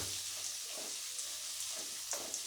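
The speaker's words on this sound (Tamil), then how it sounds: "இப்போ நம்ம ஆனியன் போட்டு வதக்கிக்கலாம்." Finely chopped onion sautéing in a pan for bitter gourd fry, a soft, fairly quiet hiss with a few light stirring scrapes, no talk.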